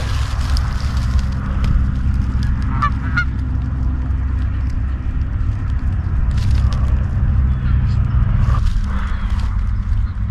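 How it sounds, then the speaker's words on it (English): Geese honk during a waterfowl hunt, several loud calls nearby over a steady low rumble of outdoor background, with scattered fainter honks spread across the stretch. "There's geese at five yards to our front right"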